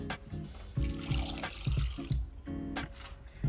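Water poured from a glass into a saucepan holding jackfruit, splashing and gurgling in a few uneven bursts, close and fairly quiet with no talking.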